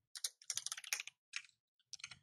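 Rapid keystrokes on a computer keyboard, a quick burst of close, crisp clicks followed by a short pause and a few more taps, with no talking.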